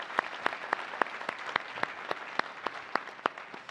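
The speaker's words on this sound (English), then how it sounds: "A big round of applause to all 5," Audience applauding nominees at an awards evening, with a steady wash of clapping and sharp, evenly spaced loud claps standing out close by.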